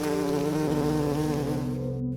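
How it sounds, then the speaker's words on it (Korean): A large hornet flies fast close by, a loud, steady droning buzz with a rich, even hum that holds throughout, alone with no voices. "큰 말벌이었습니다."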